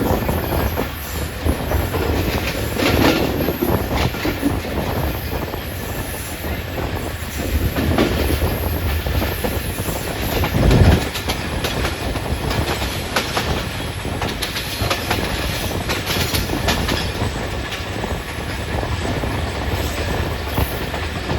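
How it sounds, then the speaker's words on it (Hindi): Shah Latif passenger train running from Karachi toward Hyderabad as it nears a railway station in Pakistan, steady close rumble of carriages with continuous rhythmic wheel clatter and occasional squeal, loud and unbroken for the whole stretch. "ये रेलवे स्टेशन पहुँचने वाली है हमारी ट्रेन।"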